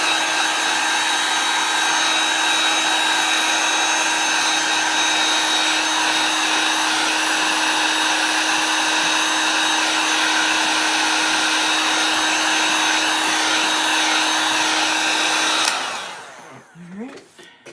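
Hair dryer blowing steadily on chalk paste, a loud constant whine and rush of air running without pause for about sixteen seconds before switching off and winding down.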